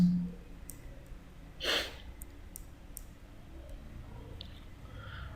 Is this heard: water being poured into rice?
no